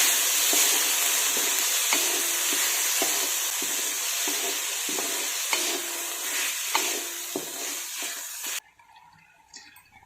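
Soaked whole masoor lentils hitting a hot tempering in a pan and sizzling loudly, with repeated stirring scrapes over the steady crackle before the sizzle abruptly drops away near the end.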